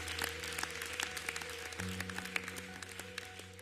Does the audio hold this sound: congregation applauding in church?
yes